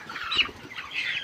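Chickens cluck in a poultry farm shed. Two short bursts of close clucking come one after the other over a low background. There is no talk.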